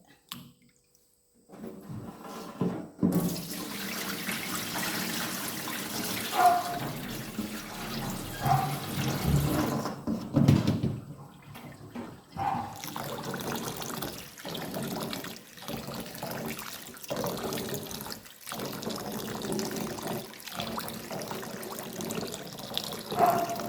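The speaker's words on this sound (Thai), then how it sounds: "เราต้องล้างจนมันหมดเมือกนั่นแหละ" Tap water runs steadily into a basin as glutinous rice is rinsed to remove its sliminess, with splashing, brief pauses in the flow, and handling of the grains, close up and without speech.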